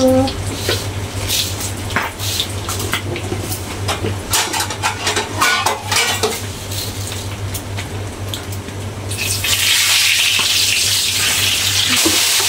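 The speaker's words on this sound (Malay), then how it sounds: "Abang goreng ikan." Steady sizzling and crackling of fish frying in a pan, close by, growing louder and brighter toward the end, with speech heard intermittently over it.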